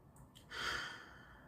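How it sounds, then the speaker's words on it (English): One deep breath drawn in and let out during a guided diaphragmatic breathing exercise, a soft airy rush that swells briefly and then fades, close and quiet, with no speech. "take a big deep breath in"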